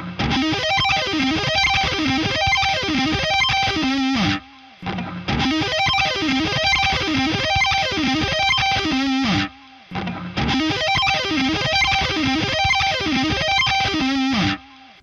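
Fast distorted electric guitar solo played up to speed, loud dense runs in three repeated phrases with brief gaps between them.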